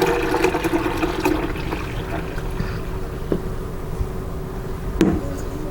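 Ice cream mixture is poured into a homemade ice cream maker for mint chocolate chip or vanilla, with a close, continuous splashing gurgle of liquid that gradually eases, ending with a sharp knock near the end.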